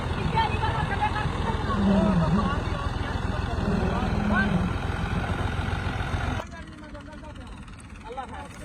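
An overloaded tractor's engine drones loudly and continuously up close, with voices talking over it; the rumble drops abruptly to a quieter level near the end.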